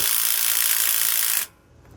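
A ratchet fitted with a 9/16 socket tightens hex bolts on a rear anti-sway bar install, giving a rapid, close, continuous clicking buzz that stops abruptly after about a second and a half.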